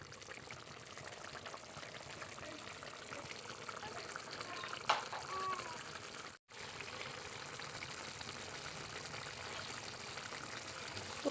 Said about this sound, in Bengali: দেওয়ার পরে আরও একটু ফুটিয়ে নেব।